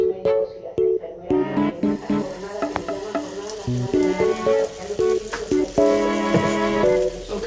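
Hot cake batter sizzles in a hot skillet, a steady frying hiss running through the whole stretch beneath louder melodic background music, with no talking.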